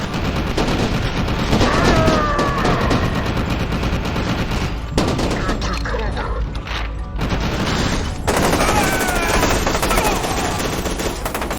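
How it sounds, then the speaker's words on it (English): Submachine gun fire from the shooter game FEAR 2, loud and continuous, with dense rapid bursts and short breaks between volleys, and no speech. "Next, we have the SMG or submachine gun."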